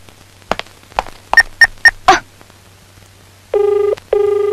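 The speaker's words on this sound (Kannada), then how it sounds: "ಇದೇನು ಆನ್ ಮಾಡಿದ ತಕ್ಷಣ ರಿಂಗ್ ಆಗ್ತಿದೆ?" Telephone being switched on, with several button beeps and a thunk, then two loud, buzzy ring bursts separated by a short pause, in a 2008 Kannada film scene.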